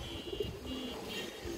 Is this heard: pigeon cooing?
yes